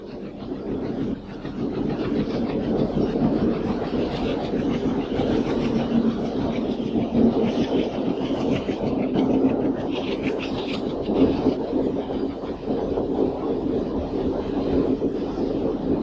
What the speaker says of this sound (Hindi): यहाँ पुल भी है और रेलगाड़ी भी